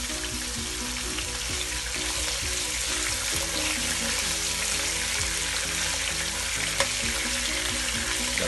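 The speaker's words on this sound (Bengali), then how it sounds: "এটাকে আমি একটু সুন্দর করে হালকা ভাজা দিয়ে নেবো" A long baim eel, about two feet, fries lightly in oil, giving a constant close sizzle throughout with faint stirring and no talk.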